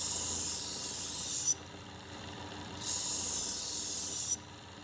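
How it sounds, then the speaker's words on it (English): Work Sharp Ken Onion Edition powered knife sharpener grinding a knife on its belt; two bursts of bright, hissing abrasion, each about a second and a half long, separated by a quiet pause. "I'm stopping when the tip of the knife gets about halfway in that sharpening blade"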